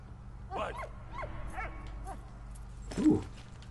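A dog in the World War I video game Valiant Hearts: The Great War gives several short whimpers and yips, then a louder bark near the end, fairly faint over a low steady background hum.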